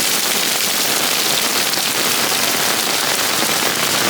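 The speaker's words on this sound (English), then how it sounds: "This rain is ridiculous." Heavy rain pours down in Vietnam, a loud dense unbroken hiss of drops striking surfaces close by, steady for the whole stretch with no talk.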